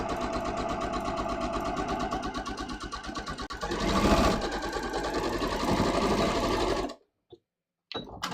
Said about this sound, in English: So you can see I'm just sewing straight across here.